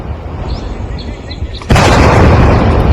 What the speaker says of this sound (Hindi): भयंकर धमाका हुआ कि आसपास के इलाके भी दहल उठे।